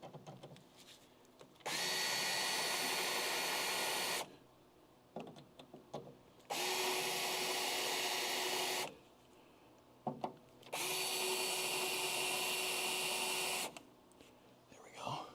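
A power drill whirs in three sustained bursts of a few seconds each, loud and close, separated by quieter pauses with faint murmured talk.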